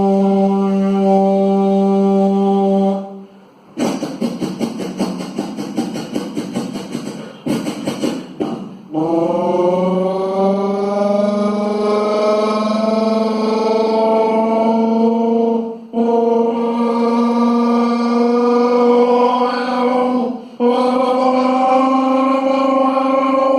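A voice imitates a departing train's horn in one long unbroken breath, a loud steady tonal blare sustained for over twenty seconds with a brief rough, buzzing stretch near the start and small dips in between.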